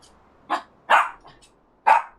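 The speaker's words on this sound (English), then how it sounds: "Puppy." A puppy barks three sharp times, close and loud, with uneven gaps between the barks and near-silence around them. No one speaks.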